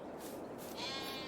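Sheep bleats sound in a Farming Simulator pasture with lambs, a wavering bleat rising over a steady game ambience, moderately faint and with no speech.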